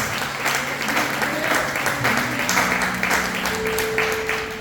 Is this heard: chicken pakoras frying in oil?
no